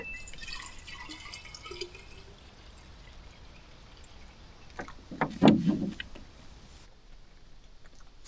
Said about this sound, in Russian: А овощи надо мыть, поэтому буду мыть очень малым количеством воды.